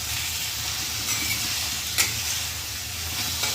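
Tinda (round gourd) stir-fried on high flame in a pan, a continuous close sizzle with occasional scraping stirs and a sharp clink near the middle.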